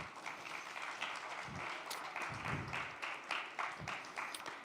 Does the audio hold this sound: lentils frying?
no